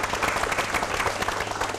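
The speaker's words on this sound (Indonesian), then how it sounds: "Kita berikan tepuk tangan." Studio audience applause at a televised evening show, dense and steady clapping from many hands, moderately loud and unbroken, with no speech over it.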